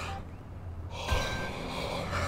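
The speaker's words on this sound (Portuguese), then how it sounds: "Desculpa pelo bocejo" A long drawn-out human yawn from a person at home playing a truck-racing career-mode game, heard close and breathy over steady game engine and background noise, with a sharper inhale near the middle.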